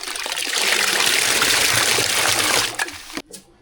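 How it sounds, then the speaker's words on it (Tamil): A mix of lemon and citron juice pours in a continuous liquid trickle into a cooling summer drink, steady and close for about two and a half seconds before tapering off with a few drips and a soft clink. "எலுமிச்சம்பழம் நார்த்தங்க ரெண்டு ஒன்றா புளிஞ்சு வச்சுருக்கோம் அதை சேர்த்துக்கலாம்"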